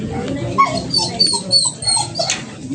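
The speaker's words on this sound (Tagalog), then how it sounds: "maingay yung aso dito" A dog barks and whines in quick, high-pitched bursts nearby, with a low rumble of background noise underneath.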